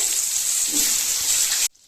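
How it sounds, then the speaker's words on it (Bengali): Potatoes fry in hot oil, a dense, steady sizzle that holds at an even loudness and then cuts off abruptly near the end. "এবার আলুগুলো একটু লাল লাল করে ভেজে নেব"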